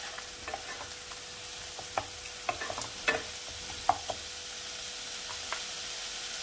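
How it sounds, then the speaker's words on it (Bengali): Onion paste fries in a pan with a soft, steady sizzle, punctuated by scattered light scraping taps of a spoon stirring, close and fairly quiet with no voices. "এটাকে একটু ভাজা ভাজা করবো।"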